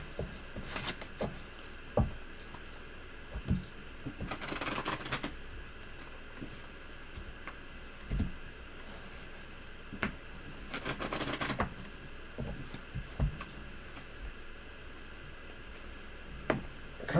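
Tarot cards being shuffled by hand, soft scattered taps and clicks with two longer riffling bursts, quiet and close, with no talking.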